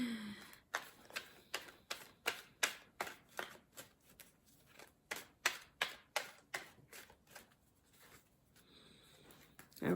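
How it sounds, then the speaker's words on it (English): Tarot cards being shuffled by hand, with cards flying out of the deck: a steady run of crisp, close riffling snaps in quick rhythm that eases off near the end, quiet overall and without talking. "Okay, cards are just flying."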